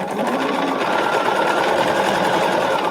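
Sewing machine joining quilt patches, a continuous loud, close mechanical whir with a fast, even rhythm and no pauses.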